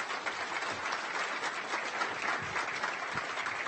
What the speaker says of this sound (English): let's give the panel an applause first